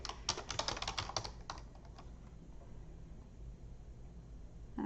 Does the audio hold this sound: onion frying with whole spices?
no